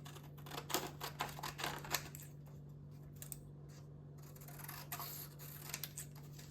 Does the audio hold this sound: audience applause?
no